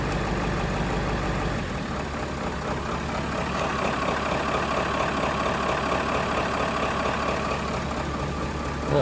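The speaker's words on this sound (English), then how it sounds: "It puts it down to a 500 RPM idle." A diesel truck engine fitted with a Power Hungry Performance Hydra tuner idles low at 500 RPM in whisper mode, a steady knocking rumble that holds close and even for the whole stretch with no talk.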